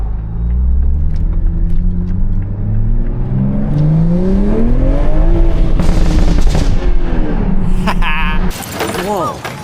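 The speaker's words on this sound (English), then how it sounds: "That's going to give you the best sounding pops that you can get in this thing." A 2021 MK5 Toyota Supra revs loudly through gears, then crackling exhaust pops and bangs burst out as it downshifts near the end, close and harsh.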